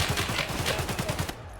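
Rapid automatic gunfire in Escape from Tarkov: a fast, evenly spaced burst of a dozen or so sharp shots, loud and close, stopping abruptly near the end.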